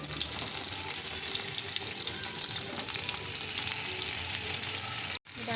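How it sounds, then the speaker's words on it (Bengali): Paturi parcels, tied fish or vegetables wrapped in leaves, frying in a little hot oil in a pan: a steady, dense sizzle and crackle that runs loud and continuous, close up, with no voices. "তেলটা আমার গরম হয়েই গেছে। এবার বেঁধে রাখা পাতুরিগুলো দিয়ে দেবো।"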